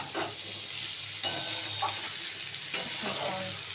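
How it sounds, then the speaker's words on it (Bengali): Tengra fish curry gravy with new potatoes and eggplant bubbles and sizzles in oil in a pan, a continuous close frying crackle broken by a couple of sharp pops and light stirring scrapes. "বেশ তেলটা ছেড়ে দিয়েছে আর এদিকে ঝোলের জলটাও কিন্তু আমার ফুটে"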